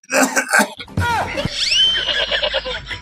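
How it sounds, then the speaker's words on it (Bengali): A man gives a short raspy coughing fit, a few harsh bursts following some spoken words, then a strained, wheezy vocal sound trails off under his continuing voice. "এই শালা কাশিটা বড্ড বাড়ছে রে"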